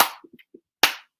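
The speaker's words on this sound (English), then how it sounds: "If you're happy and you know it, clap your hands." Several sharp hand claps in an irregular pattern, a loud clap, a few softer quick ones, then another loud clap, keeping time with a children's clapping song during a stage play.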